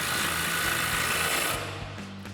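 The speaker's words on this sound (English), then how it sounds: "Now we'll tighten that back down with our 19mm swivel socket and extension on our impact" Impact wrench on a 19mm swivel socket and extension tightening a bolt on a Toyota Tacoma's coil-over suspension, a loud continuous buzzing whir that stops abruptly after about a second and a half.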